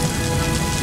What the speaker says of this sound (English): it's coming from the overhead spring sensors out there, on top of those wood poles, just how we create rain for the movies